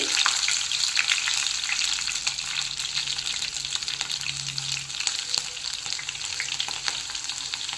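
Slit green chilies and mustard seeds frying in hot oil, a continuous close crackling sizzle with small pops scattered through it and no talking.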